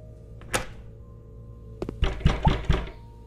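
Smashing of a toilet inside a video game, heard as a sharp thump, then a quiet pause and a cluster of four or five heavy, loud crashing knocks close together.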